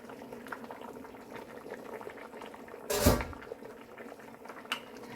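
Chicken soup with mung bean sprouts boils in a pot, a soft steady bubbling broken by one sharp clatter partway through and a lighter knock later.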